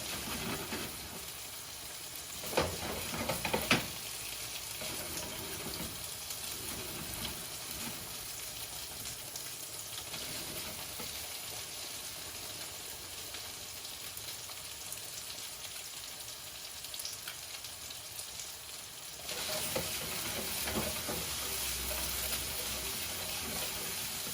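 Paprika meatballs frying in a pan give a steady, broadband sizzle throughout, with a few brief crackles early on and a slightly louder stretch near the end.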